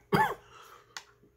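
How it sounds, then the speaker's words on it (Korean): A single sharp, close cough from a man, followed by a brief throat-clearing sound in an otherwise quiet room. "아, 요즘 기침하기도 참 어렵네요."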